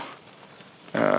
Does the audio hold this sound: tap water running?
no